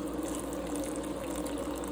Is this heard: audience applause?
no